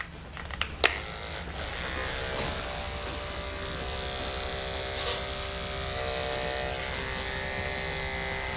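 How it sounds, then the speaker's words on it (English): A two-speed electric dog hair clipper fitted with a 10 blade runs with a steady, close electric buzz throughout, after a brief click as it starts, with no voices. "we're gonna finish up and keep going with our 10 blade"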